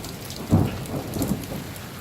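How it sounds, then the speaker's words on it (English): Thunder rumbles through a steady rainstorm, with a strong low boom about a quarter of the way in that rolls on and fades under the continuous hiss of falling rain. "Wow. Still thundering."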